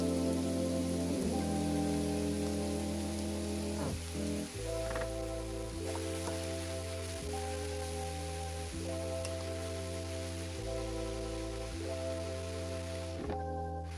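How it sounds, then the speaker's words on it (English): Peppers and onions frying in a quarter cup of olive oil for a pasta sauce, a steady hiss of sizzling under prominent, continuous background music. "I will be using 1/4 of olive oil to fry the peppers and onions at this time"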